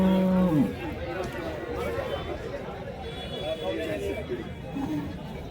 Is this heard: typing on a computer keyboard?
no